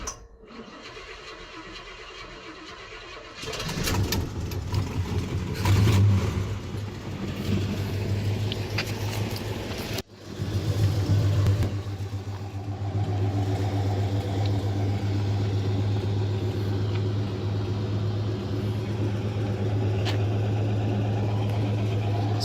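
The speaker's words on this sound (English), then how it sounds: "Full true dual exhaust system, no H-pipe, with Cherry Bomb Vortex mufflers." A car engine cranks and starts, then settles into a deep, steady rumbling idle through a true dual exhaust with no H-pipe and Cherry Bomb Vortex mufflers, loud and close, with a brief blip partway.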